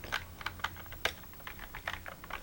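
Computer keyboard keys tapped to play a Tetris-like BASIC game on a Basic Engine computer, a dozen or so quick, irregular clicks at close range with no talking.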